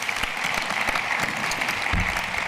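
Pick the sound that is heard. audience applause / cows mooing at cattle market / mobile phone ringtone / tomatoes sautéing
audience applause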